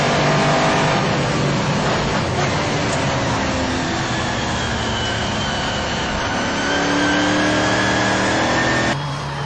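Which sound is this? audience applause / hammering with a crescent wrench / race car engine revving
race car engine revving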